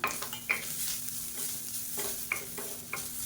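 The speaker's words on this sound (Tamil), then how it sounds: "ஒரு கப் அளவுக்கு துருவன தேங்காய் எடுத்துருக்கேன் இதை சேர்த்துக்கலாம் சேர்த்து நல்லா வதக்கி விட்டுக்கலாம்" Grated coconut sautés in hot ghee in a pan for pooranam kozhukattai filling, with a soft continuous sizzle broken by a few sharp scrapes and taps of a spoon stirring against the pan.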